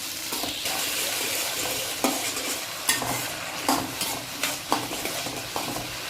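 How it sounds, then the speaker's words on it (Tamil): A green turkey berry mixture is sautéed in a pan for a village-style sundakkai kuzhambu, giving a constant loud sizzle. A spoon scrapes and knocks against the pan several times in an uneven rhythm. "இது நல்லா வதக்கிக்கோங்க"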